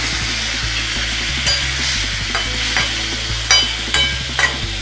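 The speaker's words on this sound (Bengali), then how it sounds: "সেদ্ধ করা সবজিটা আমি ঢেলে দেবো। মশলা ধোয়া জলটা দিয়ে দেবো।" Boiled vegetables stirred in a pan while making Bengali shukto, with a loud steady sizzle, repeated scraping and clanking of a spoon against the pan, and a low hum underneath, close and without speech.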